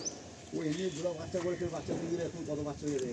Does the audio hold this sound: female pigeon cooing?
yes